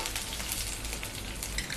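Garlic sizzles steadily in hot oil in a pan for a raw banana stir-fry, a continuous close crackle with no talk.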